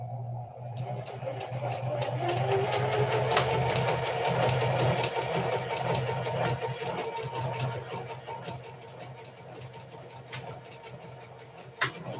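Sewing machine stitching a buttonhole on test cloth with a buttonhole foot, a steady, close, rapid mechanical whir running continuously, with a faint click near the end.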